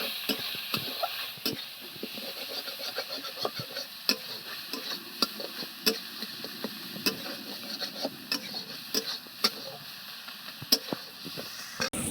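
Shrimp and grated coconut filling is stirred in a pan, giving a steady soft sizzle with a dense run of light scraping ticks from the spoon, close and continuous with no talk.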